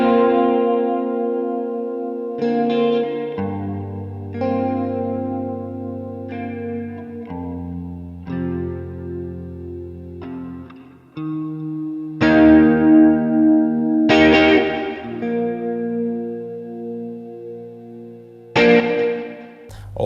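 An electric guitar plays a slow series of distorted, effect-laden chords, each ringing out and sustaining before the next, with no voices.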